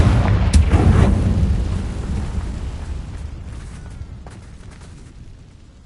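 Confringo blasting spell in the Hogwarts Legacy video game, a loud deep boom near the start that rumbles and slowly fades over several seconds.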